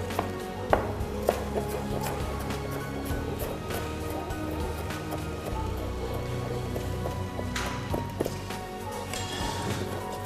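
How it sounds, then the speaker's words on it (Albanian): An onion is chopped finely on a cutting board for a pancetta rice dish, a busy stream of rapid knife taps with a few sharper strikes, steady and moderately quiet, with no talking. "E grim qepën sa më imët të jetë e mundur"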